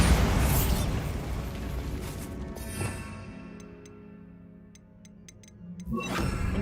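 A Bombarda spell explosion in Hogwarts Legacy bursts loudly at the start, then its rumbling tail decays over several seconds amid faint ticking clicks before a second burst swells near the end.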